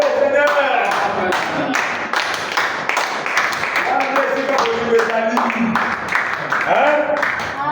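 Church congregation clapping to acclaim the Lord, a rhythmic run of sharp handclaps mixed with voices, under lively talking and calling out throughout.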